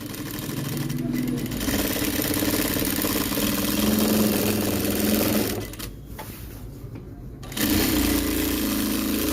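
Sewing machine running steadily while hemming a blouse with a hemming foot, a continuous loud motor whir that drops briefly and then resumes at full speed.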